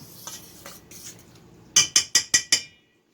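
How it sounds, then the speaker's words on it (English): A spoon stirs curried chicken casserole in a pot, with soft scraping at first and then five sharp, evenly spaced clinks against the pot's side, close and moderately loud. "so I kind of stir that up"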